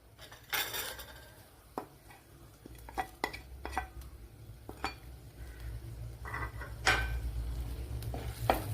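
Garlic, ginger and green chili go into hot oil for a fish curry, a soft sizzle under scattered clinks and knocks of a utensil against the pan, close and quiet, with no talk.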